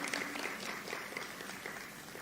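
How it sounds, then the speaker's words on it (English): An audience claps at an election security programme launch, dense steady applause filling the room from start to end, fairly loud and uninterrupted. "Let's clap for them again."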